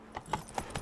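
A quick few hoofbeats from a horse in The Witcher 3: Wild Hunt, three or four crisp clip-clops in under a second, fairly close and clear.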